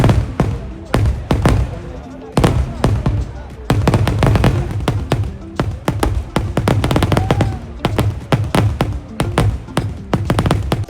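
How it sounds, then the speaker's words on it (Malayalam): Fireworks explode at a wedding in Kannur, a rapid volley of sharp loud bangs in dense bursts with short gaps, while crowd voices carry underneath. "പിന്നെ ഫസ്റ്റ് സെറ്റ് ഓഫ് വെടിക്കെട്ട് നല്ല അടിപൊളിയായിട്ട് തന്നെ കഴിഞ്ഞു കേട്ടോ."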